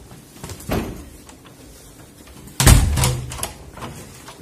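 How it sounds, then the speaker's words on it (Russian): An office reception room door is pushed shut with a single solid thud and a brief rattle of the latch, close by and fairly loud, following a quieter earlier knock or bump in a calm room. "Почему дверь закрывает?"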